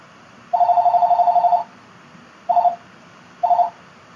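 A landline telephone rings in a room, one long trilling burst followed by two shorter ones, loud and close with nothing else heard.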